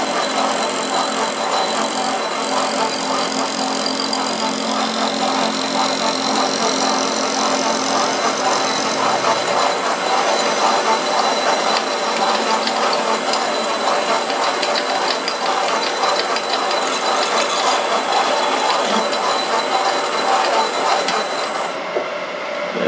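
A cutting tool works inside an AR-15 barrel blank, chattering as it hits the lands. The machining noise is a steady, close, gritty whir with a fine rattling texture and holds an even level throughout.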